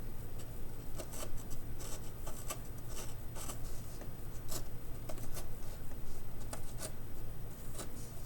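A dull pencil scratches out a thick line on paper in steady, continuous strokes, with a rasping texture that pulses slightly in rhythm, close up and moderately loud without any talking.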